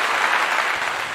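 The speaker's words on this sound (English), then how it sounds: "let me give them a clap right here" A short burst of audience applause during a talk on free domestic and international travel, steady and fairly loud with no voices over it.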